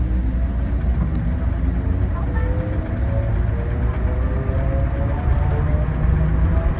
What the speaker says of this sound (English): Love the sound of these motors.